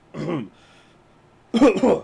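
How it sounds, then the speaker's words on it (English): A performer voices a character during a tabletop role-playing session with a brief vocal sound, then a double cough-like burst after a short pause, loud and close to the microphone. "coughs a little bit"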